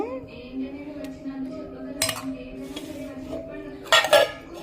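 Onion chutney is served onto a plate, with soft scrapes and a few sharp clinks of dishes and cutlery. A louder cluster of clinks comes near the end, heard close up in a quiet home.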